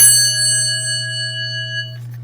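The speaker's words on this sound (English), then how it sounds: "here we have everyone's favorite, a Westinghouse dinner bell" A Westinghouse elevator dinner bell, an old collected part, rings once with a bright metallic tone that rings on for about two seconds, over a steady low electrical hum, then cuts off.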